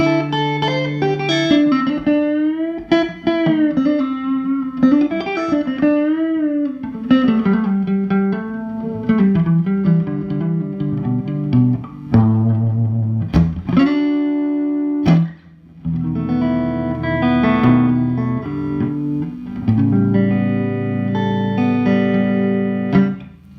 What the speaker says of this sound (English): The Fender Bassman 70, running through a couple of 12-inch Jensen greenbacks in a vintage cabinet